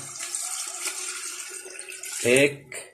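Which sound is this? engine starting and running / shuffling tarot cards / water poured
water poured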